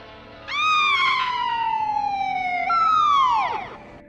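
A loud police siren in the film Halloween II wails in a long falling sweep, then jumps back up and falls away again, close and unbroken, with no voices.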